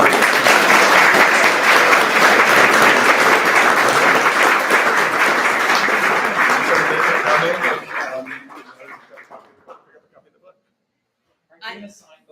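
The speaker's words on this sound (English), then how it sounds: "give her a round of applause." An audience at a book launch applauds steadily and loudly for about eight seconds. The clapping then tapers off into scattered claps, and a brief voice follows near the end.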